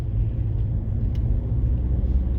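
Car interior while driving in close traffic, with a steady low engine and road rumble running throughout at an even, fairly loud level.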